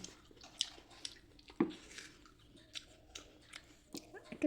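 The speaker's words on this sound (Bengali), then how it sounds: "কচম কচম কি আওয়াজ হচ্ছে?" Someone chews crisp jamrul fruit mixed with salt and cumin-chili spice close to the mic, giving irregular wet crunches and bites with quiet gaps between them, and a faint voice in the background.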